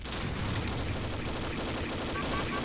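Sustained gunfire from a .50 caliber weapon in the online shooter Combat Arms, a dense, continuous burst of rapid shots filling the whole stretch at steady loudness.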